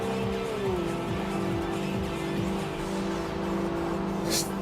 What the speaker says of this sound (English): God damn, this thing is high revving.